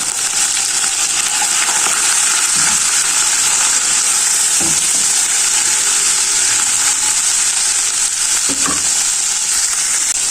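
Garlic, ginger and spices frying for bhindi masala, a loud, steady, close-up sizzle of hot oil with a few faint stirring clinks underneath.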